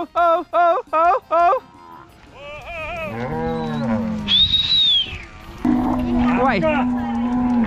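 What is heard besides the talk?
cows mooing while being moved to pasture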